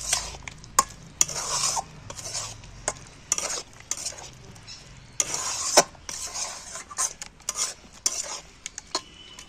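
Spoon stirring egg paneer curry with scattered coriander leaves in a pan, repeated scraping and clinking of metal against the pan over a soft sizzle, close with no talk.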